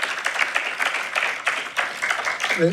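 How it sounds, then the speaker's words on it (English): Applause for LAPD officers at a symposium, a dense crowd clapping steadily throughout, with a voice coming in briefly at the very end. "another round of applause for our law enforcement LAPD"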